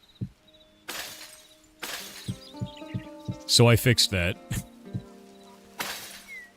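In a video game under development, glass potion bottles shatter in several sharp, bright crashes spread across the clip, with one dense cluster of breaks in the middle. A person speaks briefly between them.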